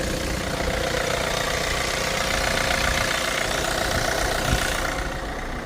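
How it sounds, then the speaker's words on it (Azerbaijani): A diesel car engine idles steadily and evenly, a close continuous rumble with a fine clattering texture holding at a constant level throughout, with no voices. "Motor da saat kimi işləyir."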